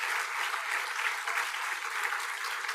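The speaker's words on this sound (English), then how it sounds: "everybody give them a round of applause" A crowd claps steadily at a city's State of the City event, a dense wash of applause that holds its level throughout without cheering or speech.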